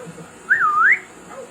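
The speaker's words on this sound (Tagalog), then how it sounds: "Sisipulan mo. Poging sipol." A man gives a single flirtatious wolf whistle, a short clear tone that rises, dips and rises again, heard close over a quiet background.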